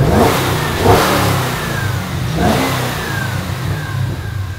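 A Chevrolet Camaro with a 6.2 litre V8 revs loudly up close, two throaty blips of the throttle rising and falling over a rumbling idle.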